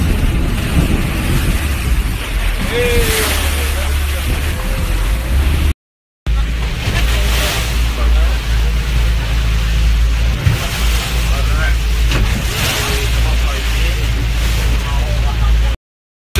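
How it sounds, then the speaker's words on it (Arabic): Sea waves washing around a tourist boat near El Nido, Palawan, a steady loud rush of water and hull noise with engine rumble, briefly cut out midway, while people talk over it. "شوف الموج كيف تدور."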